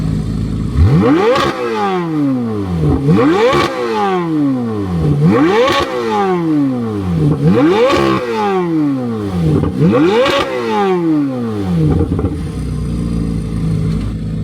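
A 5.5-liter flat-plane crank V8 supercar engine revs hard again and again, each sharp rise to a high howl dropping back down in a steady rhythm of about six loud bursts.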